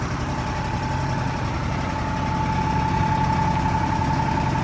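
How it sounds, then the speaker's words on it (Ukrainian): Valmet three-cylinder turbo diesel engine of a Case Dania International D3000 combine running steadily at high revs, a loud, even drone with a faint high whine, no talking. "стоїть вальмер трьохциліндровий з турбіною. Запустили на високих обертах, стоїть рівномірно, не шарпає, не хитає."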